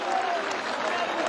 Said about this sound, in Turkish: Bir alkış yapalım her iki pervana da.